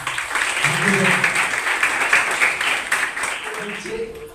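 Crowd applause at a school ceremony honoring three girls who won a sports competition, dense continuous clapping throughout, with a voice talking over it.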